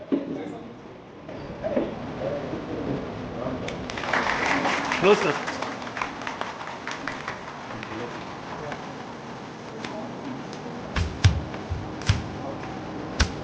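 Staff at a school felicitation ceremony clap while a shawl and bouquet are presented, moderate applause building midway and fading into scattered claps, with talk running underneath.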